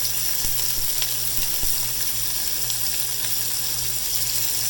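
Cajun holy trinity vegetables sautéing in a pan for chicken and sausage étouffée, a loud, dense, continuous sizzle with a faint low hum and a few small taps, no talking.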